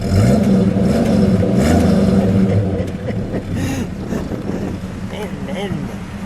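A 1966 Studebaker Commander two-door's engine is revved in a few rising and falling surges, loud and close, with wind buffeting the microphone and a person talking over it.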